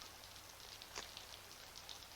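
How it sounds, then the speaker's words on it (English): Steady rain falls in a dramatic scene, a soft continuous hiss of drops with a low hum beneath, one slightly louder splash near the middle and no voices. "does the rain remind you of the time you were lost?"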